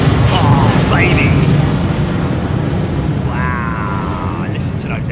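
A Boeing 767 on Pratt & Whitney engines passes on arrival at London Heathrow, a loud, rushing jet roar with a rising whine. Someone talks excitedly over it throughout.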